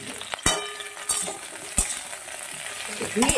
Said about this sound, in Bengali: আর সাদা তেল দিয়ে খুব ভালো মতো এটাকে ভেজে নেব